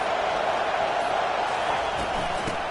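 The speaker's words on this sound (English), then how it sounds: "Listen to the crowd energy here in the early going." A stadium crowd at a football game gives off a dense, steady roar that is loud and unbroken throughout, like distant massed voices with no single cheer standing out.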